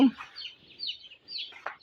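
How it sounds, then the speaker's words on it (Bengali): Chicks clucking and chirping in short, high bursts at a poultry farm, fairly close, with a brief low thump at the start. "ফার্ম নাম্বার চারের জন্য যে এক হাজার মুরগি কালেকশন করা হয়েছে"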